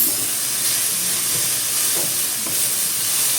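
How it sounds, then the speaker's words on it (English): Cabbage sautés in hot oil in a pan for chow mein, giving a steady, even sizzle and hiss that runs through the whole stretch, fairly close, with no talking. "So you just saute the cabbage a little."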